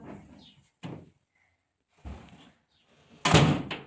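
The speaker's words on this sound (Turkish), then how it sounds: "Kapıyı kapat hadi o zaman bakalım." An indoor door in a home is pushed shut with a loud, close thud near the end, after a few short, quieter knocks and shuffles separated by silence.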